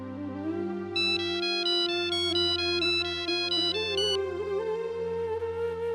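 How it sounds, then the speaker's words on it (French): A telephone rings with a repeating electronic tone pattern in regular bursts, clear and sustained over soft background music. "Jit, c'est Maï au téléphone."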